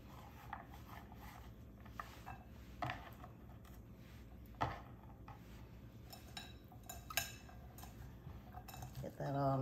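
Chopped vegetables for shrimp étouffée are stirred in a bowl with a utensil, giving faint scattered clinks and scrapes with soft knocks at irregular intervals.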